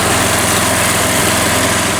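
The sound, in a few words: Mountfield M3 lawnmower engine running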